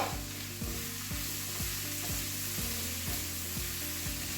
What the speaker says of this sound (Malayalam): എണ്ണക്കകത്ത് കിടന്ന് നന്നായിട്ടൊന്ന് മൂത്തൊന്ന് ഗോൾഡൻ ബ്രൗൺ ആവുന്ന വരത്തേക്ക് നമുക്ക് വെയിറ്റ് ചെയ്യാം